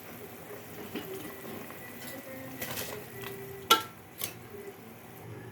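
Rice poured into a pot of boiling water and stirred, giving a soft bubbling hiss with light scraping, a few faint clinks and one sharp knock from the utensil against the pot.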